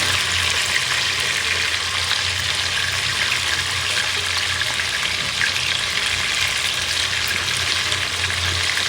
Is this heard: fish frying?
yes